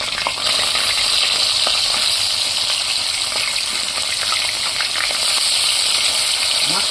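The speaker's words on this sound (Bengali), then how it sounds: "মাছটাকে একটু হালকা করে ভাজতে হবে, খালি রং আসার মতো করে" Fish pieces frying lightly in a pan give a steady, close sizzle with faint crackles and small pops, and the sound runs unbroken with no talk.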